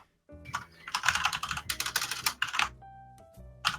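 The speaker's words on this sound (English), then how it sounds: "I know my keyboard is loud." Quick, uneven bursts of typing on a mechanical keyboard with Cherry MX Red switches, close and clicky, running in rapid runs with short pauses.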